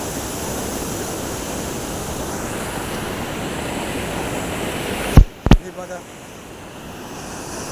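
Floodwater rushing after heavy rain makes a loud, steady roar for about five seconds. A couple of sharp knocks close to the microphone follow, and then the rush continues more quietly.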